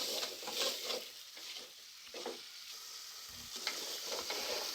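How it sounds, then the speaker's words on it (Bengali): Beef pieces and spices frying in a pan for bhuna khichuri, with a steady sizzle and repeated scraping stir strokes, close and continuous. "দিয়ে আমি ভালোভাবে মশলা আর মাংসগুলো কষিয়ে নেব, একদম ভাজা ভাজা করে কষিয়ে নেব।"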